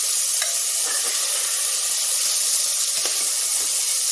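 Elephant foot yam frying in a pan, giving off a loud, constant hiss and sizzle with a few faint clinks from stirring.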